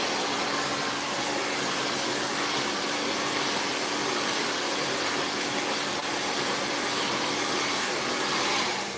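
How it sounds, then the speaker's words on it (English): A blow dryer runs continuously at close range, a steady broadband whoosh with a faint hum that holds level throughout, no voices over it. "This blow dryer is amazing"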